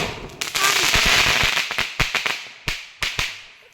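Loud firecrackers go off outdoors, first a thick stretch of rapid crackling bangs, then several distinct sharp reports spaced apart near the end.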